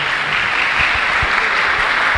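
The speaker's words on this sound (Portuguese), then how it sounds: "Uma salva de palmas para esses dois servos de Deus." A church congregation claps for two members' birthdays, a loud, dense burst of applause close by that carries on evenly with no voices over it.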